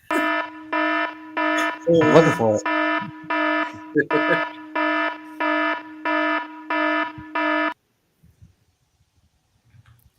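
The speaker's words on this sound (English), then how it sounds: "That is the dead pet alarm." A loud electronic alarm buzzer on a horse racing handicapping live stream pulses in about ten even, evenly spaced bursts, then stops abruptly; a voice talks briefly over it.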